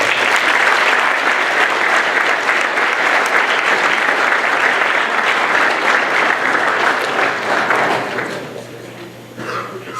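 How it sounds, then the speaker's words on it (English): A large audience at a school talk gives a loud, sustained round of applause, dense and continuous for about eight seconds before tapering off near the end. "So please give yourselves a round of applause."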